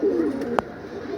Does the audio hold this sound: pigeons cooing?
yes